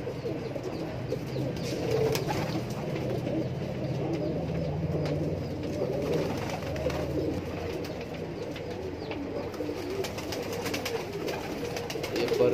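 High flyer pigeons coo softly inside a loft, a low, steady rolling murmur from several birds that continues throughout, with no talk.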